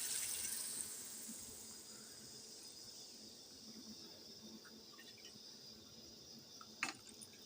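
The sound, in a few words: running water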